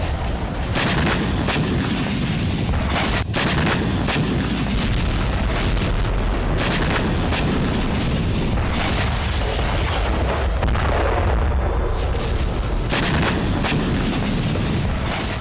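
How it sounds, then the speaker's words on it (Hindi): A FAB-500 bomb strikes a Ukrainian military camp in a war zone, producing a loud, continuous roar of blasts and rumbling booms with repeated sharp cracks of fire throughout, with no speech. "जैसे ही यूक्रेन के कंसंट्रेशन कैंप पर बम गिरा, आग और बारूद से सना गुबार आसमान तक उठने लगा"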